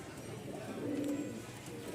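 A Rajshahi colour-matching giribaz pigeon coos softly, one low rolling coo swelling in the middle of a quiet, faintly noisy background.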